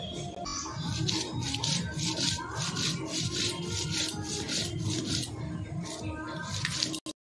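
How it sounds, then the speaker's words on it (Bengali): Coriander, ginger, garlic and cumin being ground together on a grinding stone in a village kitchen, a steady rhythmic scraping and rubbing that continues close and fairly loud throughout. "এই যে ধনা, এইটা আদা, সব একসঙ্গে মিক্সড করে বেটে নিব।"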